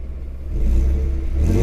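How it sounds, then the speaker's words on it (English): A 2017 Ford F-150 pickup truck engine, a low rumbling exhaust note rising as the engine is revved, close and steady with no talk. "Let's hear this bad boy roar. Let's hear the exhaust note."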